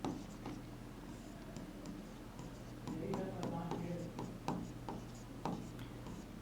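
Pen on paper as cross-multiplication is worked out by hand for a class 10 maths problem, with faint scratchy strokes and taps in short bursts, quiet and close, under a hum and a few soft sounds of the teacher.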